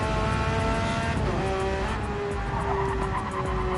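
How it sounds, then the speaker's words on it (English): A German mid-engine flat-six race car engine drones loud and sustained at Barcelona, its steady high note rising and falling slightly with gear and throttle changes, and no speech. "The sound of that flat plane's 6-cylinder"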